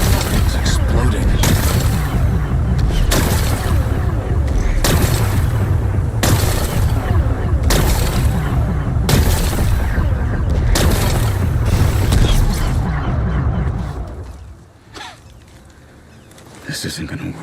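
Explosions blast away rocks in Horizon Forbidden West: a steady run of loud, booming blasts at regular intervals over a heavy rumble, then a quieter stretch with faint sounds before another swell.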